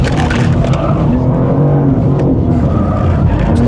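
A BMW M4 CSL engine roars loud and close on a race track, a sustained harsh drone with shifting pitch as the car pushes through a corner, with a hint of tire noise.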